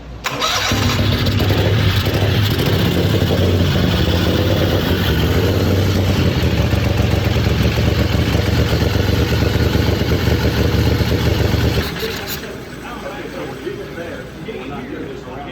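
A turbocharged Predator 670 engine roars on a dyno, loud and sustained for most of the run before cutting off abruptly into a lower idle-like rumble.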